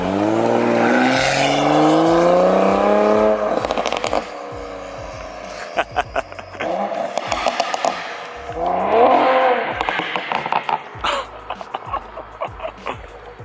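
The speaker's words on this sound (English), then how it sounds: "You can hear the turbo spool and the whistling." A tuned, straight-piped Toyota Supra engine revs hard while a rising, whining turbo whistle climbs above it, then comes sharp repeated revs, with people talking over it.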